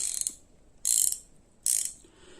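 A Craftsman swivel head ratchet, model CMMT99421 or CMMT99422, clicks up close in three short, bright, buzzing bursts of pawl clicks, evenly spaced apart, with no voices.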